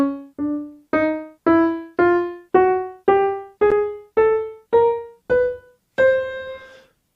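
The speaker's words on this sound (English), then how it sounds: "This series of 12 half steps is called a chromatic scale." Chromatic scale of 12 half steps played as separate, evenly spaced notes rising step by step, each attacked sharply and decaying, the last held longer; clear, close and alone.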